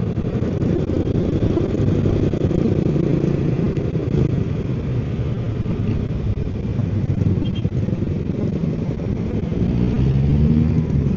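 A Yamaha Mio Gravis V2 scooter accelerates with a steady, loud engine drone that holds for several seconds and builds slightly toward the end, with wind-like rumble and no talk.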